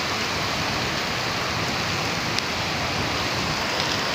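Heavy rain falls steadily in Bangladesh, a loud, continuous hiss of rain pouring onto surfaces with no pauses.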